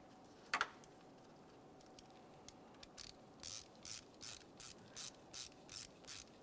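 Faint, close ratchet clicks tighten the mounting bolt of a variable valve timing solenoid on a 2014-2018 Mazda 3 2.0L four-cylinder. A few single ticks come first, then a steady run of about eight evenly spaced ratcheting strokes.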